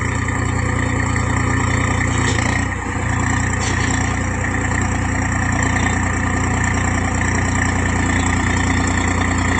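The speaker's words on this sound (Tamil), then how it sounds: "சொந்த டிராக்டர் தாங்க இது" A privately owned farm tractor's engine runs at a steady idle for the whole stretch, a loud, continuous low drone close by with no speech over it.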